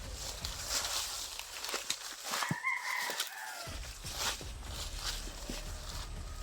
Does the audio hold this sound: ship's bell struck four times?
no